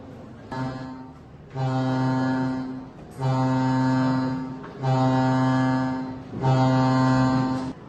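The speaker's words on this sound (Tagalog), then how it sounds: "General alarm." A ship's general alarm sounds aboard a motor vessel as the crew is ordered to abandon ship: five loud, horn-like blasts, each about a second long, separated by short gaps, with no talk over them.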